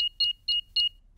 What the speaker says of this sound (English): I'll just switch the alarm off.